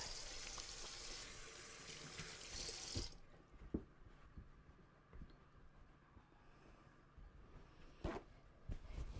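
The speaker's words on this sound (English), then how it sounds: "Let me just wash my hands." Water runs from a kitchen tap for about three seconds as hands are washed, a steady broadband rush that cuts off abruptly, followed by quieter clinks and room sounds.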